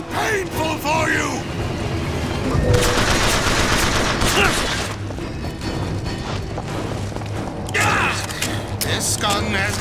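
Gunfire from a weapon in Bioshock Infinite's Burial at Sea, dense bursts of shots and metallic mechanical clatter layered with game music and effects, loud and busy, with a voice talking over it.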